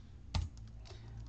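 A few number keys on a computer keyboard are struck, one firm tap followed by lighter clicks, close and brief over a low background hum.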